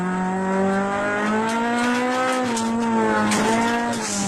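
A junior rally car in the S1600 class on a stage of the Total Tour Natal Rally in South Africa, its engine revving hard and climbing in pitch through the gears, loud and close, with a brief tire squeal.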